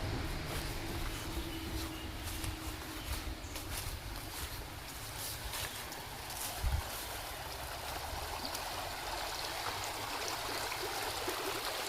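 A stream in Mauritius flowing steadily with a low rushing wash, broadband and continuous for twelve seconds, with wind buffeting the microphone and a brief thump near the middle.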